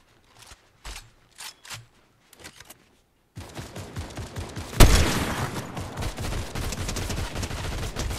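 Shotgun blasts in Fortnite Chapter 5 Season 1: a few sparse, separated shots first, then after a brief pause a dense stretch of rapid gunfire topped by one loud, close boom.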